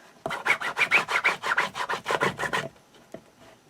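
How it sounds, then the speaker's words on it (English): Rapid rhythmic rubbing as paper on a bird-themed journal and mini album is burnished, about a dozen even strokes close up, then a single faint tap. "get some burnishing done"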